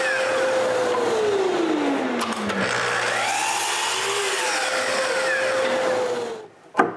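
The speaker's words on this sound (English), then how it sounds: "I begin by putting a blower inside." Blower running inside a wooden dust filtering box, a loud steady whir whose pitch sweeps down and back up, with a brief knock near the end.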